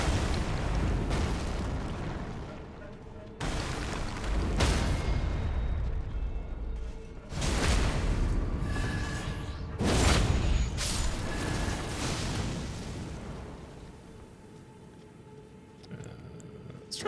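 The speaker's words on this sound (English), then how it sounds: "Unfortunately, their explosion effect does not affect their neighbors." Albinauric enemies in Elden Ring burst in a string of heavy, booming explosions, each a loud blast with a long rumbling decay, several in a row, with no talking.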